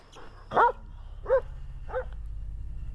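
A few separate dog barks sound out from a scary video, one louder bark and then two softer ones spaced apart, over a low steady hum with no talk.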